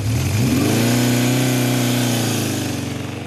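A supermoto motorcycle engine fires on its electric starter and revs, a loud steady mid-pitched drone that climbs as the throttle opens and holds before easing slightly, with no talk over it.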